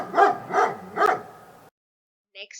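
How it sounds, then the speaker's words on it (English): A dog barks three times in a quick, even rhythm, loud and close, then goes silent before a brief faint sound near the end. "The dog barks."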